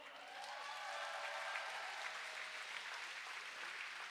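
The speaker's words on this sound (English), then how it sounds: "while you're in the clapping mood, give it up for all of our volunteers" Roller derby audience clapping for volunteers, a brief steady burst of applause from a moderately distant crowd, fairly quiet overall.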